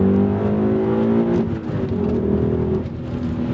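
A 2002 BMW M5 E39 sedan accelerating on an open road, its engine revving up loudly with rising tones from inside the car, then a brief gear-change dip before pulling hard again.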